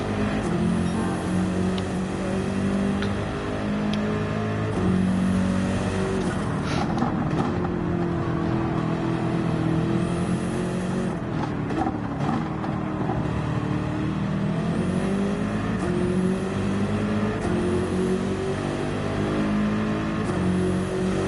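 BMW M6 race car in Gran Turismo 7, a continuous loud engine drone with rising and falling revs through shifts, other race cars close by, no talking.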